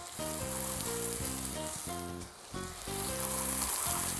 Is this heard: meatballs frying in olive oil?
yes